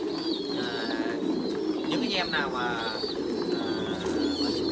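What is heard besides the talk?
pigeons cooing on a pigeon farm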